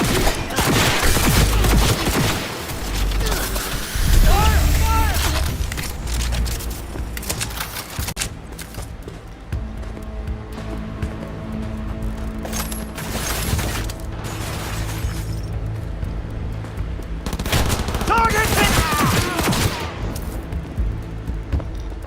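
Heavy gunfire rattles through a Cyberpunk 2077 fight in a corporate boardroom. Dense bursts of automatic fire and sharp shots go on for long stretches, mixed with shattering and mechanical clanks, then pause before another loud volley near the end.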